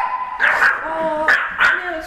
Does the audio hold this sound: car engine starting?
no